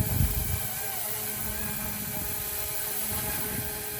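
A Goosky UH-1Y Venom RC helicopter hovers in place outdoors in wind, its small motor and rotors giving a steady, continuous whine with a fuzzy buzz throughout.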